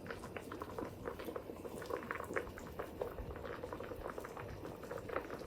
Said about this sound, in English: we're gonna bring this just to a simmer and let it simmer for about 10 minutes